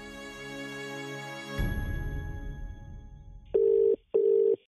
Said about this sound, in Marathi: हे मी फोन करतो